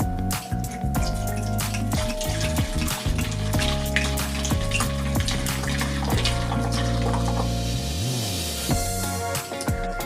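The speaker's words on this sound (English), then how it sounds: "We're going to start off with our rosé. We're going to pour some in our container." Rosé wine poured steadily from a bottle into a container for fruity sangria, a close, continuous liquid splashing and gurgling with no talk.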